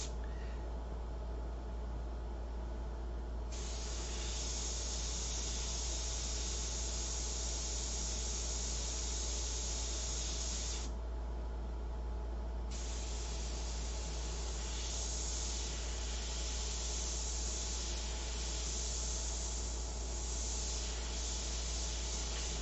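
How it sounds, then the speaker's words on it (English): An airbrush sprays paint in a steady, close hiss, switching on and off a few times over a constant low background hum. "that other airbrush was not working correctly"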